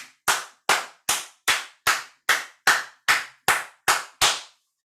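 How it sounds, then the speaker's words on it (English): Eleven sharp hand claps ring out in a slow, steady rhythm, each crisp and close with a short decay into silence between them. "Feel it and clap."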